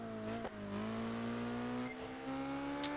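A Caparo T1 supercar in Project Gotham Racing 4 accelerates hard, its engine note climbing steadily in pitch as it winds up toward top speed. The whine is smooth and continuous, with a brief shift or lift partway through and no talk.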